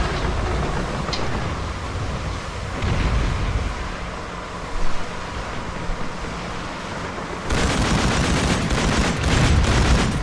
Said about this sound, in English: We need to take out those machine guns!